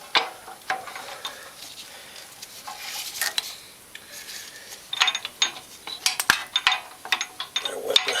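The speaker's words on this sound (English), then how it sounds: "I can hear the gears shaking around in there." Loose metal parts rattle and clank inside a Honda Rancher 350 ATV transmission being worked on, with irregular close ratcheting clicks and clatters that grow busier and louder toward the end.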